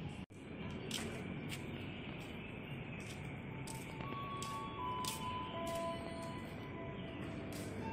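The arrival chime at Depok Baru commuter rail station in Indonesia plays a short sequence of soft, sustained tones that rises briefly over a steady hum of the station, with scattered faint clicks around it.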